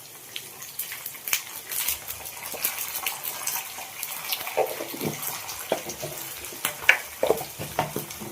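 Curry leaves sizzle in hot oil while mango pulihora is cooked, giving a steady crackling fry with scattered pops and stirring scrapes, close and fairly loud throughout.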